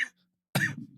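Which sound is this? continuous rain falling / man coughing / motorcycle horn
man coughing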